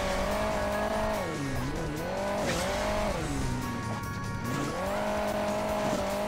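A car in Hill Climb Racing 2 strains over bumpy ground, its engine loud and continuous, the pitch rising and dipping with each bump and landing, along with tyre squeal.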